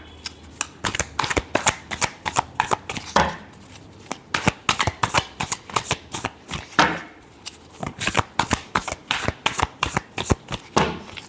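Tarot cards are shuffled by hand in a fast run of crisp riffling snaps, many sharp flicks in quick bursts with brief pauses between them, close up and alone without talk.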